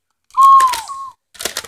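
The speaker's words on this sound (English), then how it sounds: "Okay, don't whistle right now, babe." A single clear whistled note, held for under a second and sliding slightly down in pitch, is indoors and close. A brief pause follows, then a short burst of rustling noise.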